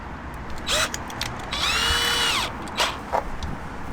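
A power drill whirs in short bursts while fitting a rear side splitter to an Audi S3 8P, one longer rising-and-falling spin in the middle, over low outdoor background noise.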